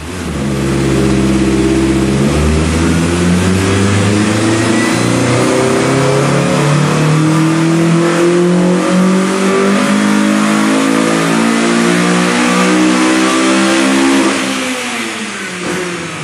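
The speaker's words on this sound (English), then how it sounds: "Now we're going to perform the next pull with the WS2 exhaust." A Honda Civic fitted with a WS2 exhaust revs hard through a dyno pull, its engine note climbing steadily in pitch for about fourteen seconds, loud and close, then dropping off at the end.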